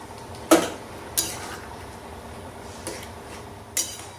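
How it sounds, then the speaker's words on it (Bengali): Paneer cubes going into a pan of palak paneer with spinach paste, with four sharp metallic clinks of a utensil against the pan spaced over a few seconds above a faint, steady low background. "এবারে দিয়ে দিচ্ছি পনিরগুলো"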